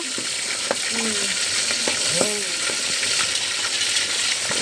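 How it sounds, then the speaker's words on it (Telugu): Mutton pieces fry in hot oil for a preserved mutton pickle, a steady close sizzle with a few sharp pops and clinks from stirring. "ముక్కలు తీసేయాలన్నమాట ఇలానే ఇంకా మిగతా ముక్కలన్నిటి కూడా ఫ్రై చేయాలి"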